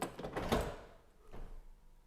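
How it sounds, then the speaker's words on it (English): Door of a Volvo 940 Turbo with a B230FT engine shutting, a close solid slam with a rattling thud, followed by a fainter mechanical clunk about a second later. "I will close the door,"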